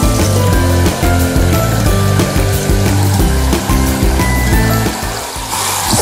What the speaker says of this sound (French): On va prendre ce pommeau de douche.